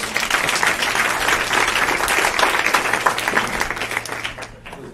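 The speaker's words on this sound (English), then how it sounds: "Another round of applause for Vijay." A crowd at a customer success meetup panel applauds loudly and continuously for several seconds, the clapping thinning out near the end.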